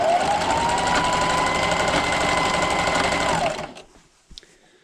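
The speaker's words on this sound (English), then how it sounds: "I'm going to sew all the way around." A sewing machine runs steadily while stitching around the edge of a scrappy strip quilt, its loud, fast, even whir continuing alone for about three and a half seconds before stopping, followed by a few faint handling clicks.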